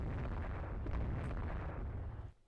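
Dreadnought battleship gunfire in the naval strategy game Rule The Waves 3, a dense, continuous rumble of heavy booms and blasts that holds steady for about two seconds, then cuts off abruptly into quiet.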